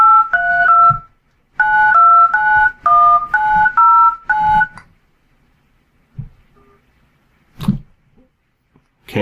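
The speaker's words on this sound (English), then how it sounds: "I'll try to call my own voicemail." Telephone keypad dialing tones sound as a call is placed to the caller's own voicemail: a string of short, clear two-tone beeps in quick groups, then quiet with a few faint clicks and knocks.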